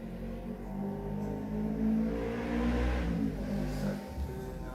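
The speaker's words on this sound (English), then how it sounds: "there is the sounds of motorcycle in the distance" A motorcycle engine drones steadily in the distance, its low hum swelling slightly as if revving before easing off, with no one talking.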